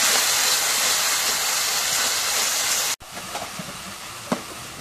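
Spice masala fries and is stirred in a pan with a loud, even hiss that cuts off abruptly partway through, followed by quieter scattered clinks and taps.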